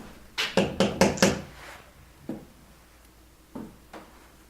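Knocks on a wall or door in an old house: a quick burst of five sharp raps, then a lone knock after a pause and two more spaced knocks, fairly close in a quiet room.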